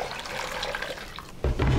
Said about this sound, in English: I'm just gonna pour my stock back into my pot.